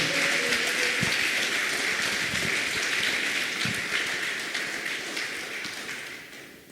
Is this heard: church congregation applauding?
yes